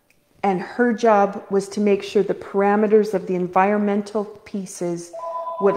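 A phone's electronic ringtone chimes briefly near the end, sounding under a speaker's continuous, close talk.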